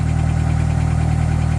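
A 1998 Honda Accord with a holed muffler idles loudly nearby, a steady deep rumbling drone with a throbbing pulse and no voices.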